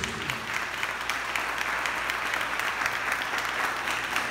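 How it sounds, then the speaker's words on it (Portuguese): A church congregation applauds for Jesus in a dense, sustained burst of clapping that stays steady and fairly loud throughout, with no talk over it. "Você pode dar um aplauso bem forte ao Senhor Jesus?"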